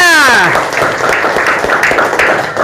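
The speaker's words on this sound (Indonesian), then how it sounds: "Kasih tepuk tangan yang meriah." Students in a classroom clap and applaud together, a dense sustained patter of hands filling the room, opened by a brief raised voice cheering over the start.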